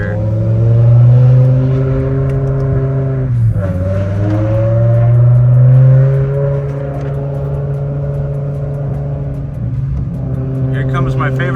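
A loud, raspy high-revving straight-piped S85 V10 in a BMW E60 M5 holds a steady drone, dips sharply as it downshifts, then climbs back and sustains a throaty roar.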